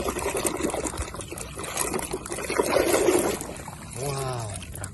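Water trickles and splashes as muddy toy vehicles such as a tractor and a military tank are rinsed one by one, a steady close wet pouring with a brief voice near the end.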